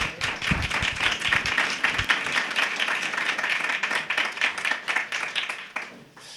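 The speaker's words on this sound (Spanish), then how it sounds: "Un fuerte aplauso." An audience gives a steady round of indoor applause for a speaker about to talk on the enigma of mummies. Dense clapping carries on throughout, easing off at the very end.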